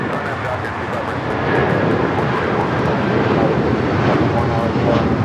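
An airliner takes off from runway 25 right at LAX, its engines a broad, steady roar that builds slightly. Wind buffets the microphone, and voices talk over the noise.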